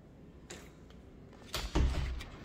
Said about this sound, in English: I'll open up the pantry door.